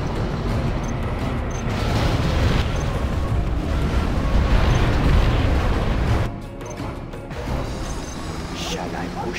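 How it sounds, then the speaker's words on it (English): Scud Storm missile strikes in the real-time strategy game Command & Conquer Generals, heavy booming explosions and crashing rumble for about six seconds, then fading to lighter debris and rumble. "General, a Scud storm has been launched."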